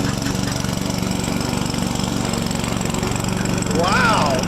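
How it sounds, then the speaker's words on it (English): Lawn mower mowing a yard, pushed by a young boy: a loud, steady engine drone close by that runs unbroken, with a brief rising whine near the end and a voice speaking over it. "That is my 9-year-old son mowing the yard for the first time ever and loving it."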